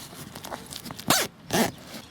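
A zipper on a Jeep vinyl soft top is pulled twice in quick succession, two sharp rasping zips after some soft handling noises, close to the microphone.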